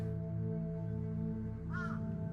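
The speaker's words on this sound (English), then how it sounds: "A murder of crows circled on the sky, so loud we could easily hear it." Crows cawing in the Survive The Blackout video game, a few harsh caws near the end over a steady droning ambient background.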